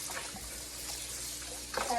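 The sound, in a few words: tap water running over flour dough while rinsing seitan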